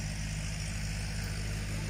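A tractor ploughs a potato field at harvest, its engine throbbing in a steady, loud low drone with a constant hum and no voices.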